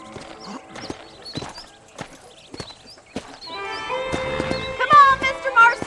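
Rhythmic clip-clop of horse hooves while riding in Red Dead Redemption, steady paced strikes that quicken and grow louder toward the end, with a voice talking over the first part.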